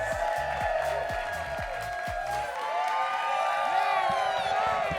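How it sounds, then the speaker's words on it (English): Audience applause, cheering and whoops welcoming a drag performer onto a stage, a dense crowd roar that stays loud throughout with voices rising over the clapping. "Please give a warm round of applause for your Hollywood hoochie mama, Salina EsTitties!"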